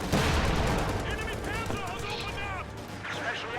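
A Panzerschreck fires at an Easy 8 tank in a video game, with dense booming gunfire and explosions filling the whole stretch beneath an excited commentator's voice.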